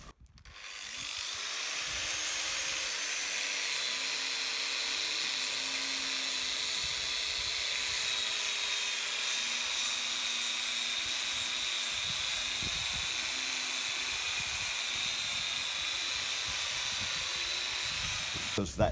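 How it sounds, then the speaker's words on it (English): A power sander with very coarse sandpaper grinds down the edge of a wooden hinge joint against a straight-edge guide, producing a steady, loud whining hiss that runs unbroken throughout. "you put a very coarse sandpaper and you basically just mill it away in seconds using this straight edge as a guide here"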